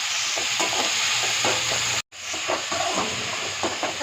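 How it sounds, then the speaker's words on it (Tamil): Seafood frying in a pan with a little salt while being stirred, a steady close sizzle with repeated scraping strokes of the spoon, briefly cut off midway. "லைட்டாக உப்பு போட்டு கிண்டி விடுவோம்"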